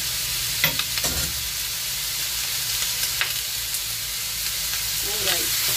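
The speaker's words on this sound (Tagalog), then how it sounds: "Haluin lang natin. Hanggang mag-golden brown siya lahat." Pork belly fries in a pan without added oil and is stirred. A steady, loud sizzle runs throughout, with a few brief utensil scrapes and knocks against the pan.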